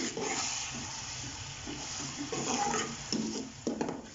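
Chopped onions fry in ghee in a wok, giving a steady close sizzle and hiss, with stirring scrapes and occasional clinks of a utensil against the pan.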